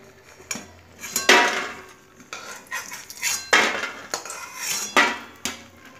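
Fried lentil dumplings are lifted out of a wok of hot oil with a metal utensil, producing a series of sharp scrapes and clanks against the pan in irregular bursts, close and without talk.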